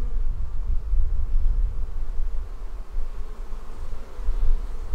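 Honey bees hum in a hive after a found queen is introduced, a steady low drone filling the whole stretch, close and continuous with no voices.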